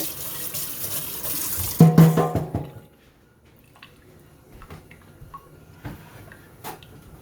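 Kitchen tap running while a rubber spatula is rinsed after making toffee bars, water gushing for about two seconds then cut off, followed by faint drips and small clicks.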